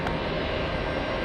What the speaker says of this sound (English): We have the big one, Delta Airlines. A 767 flying in from Copenhagen.